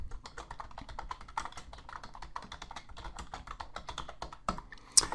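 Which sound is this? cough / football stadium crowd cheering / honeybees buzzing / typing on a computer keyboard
typing on a computer keyboard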